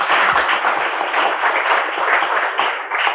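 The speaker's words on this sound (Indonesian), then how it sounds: "kita berikan tepuk tangan yang hebat" Applause from a church congregation during a sermon, honoring two women celebrating birthdays: steady, dense clapping that fills the room loudly and evenly from start to finish.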